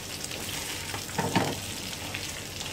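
In a wok, fried chicken and spinach are tossed together with a steady close frying sizzle and a brief burst of stirring scrapes near the middle, with no speech.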